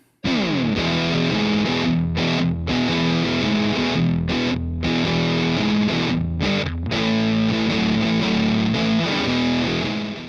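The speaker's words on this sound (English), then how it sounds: "my good mate Nick Williams' Ram Fuzz, which is a Ram's Head Big Muff clone" Thick, saturated fuzz electric guitar through a Ram's Head Big Muff clone pedal chugs through a steady rhythm riff, loud and close, with a few brief cut-offs between phrases.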